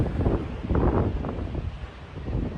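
Wind buffets the microphone outdoors on a gusty evening, with low rumbling gusts rising and falling over the wash of waves behind.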